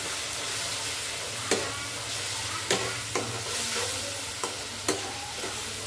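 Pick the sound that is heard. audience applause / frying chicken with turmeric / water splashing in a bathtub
frying chicken with turmeric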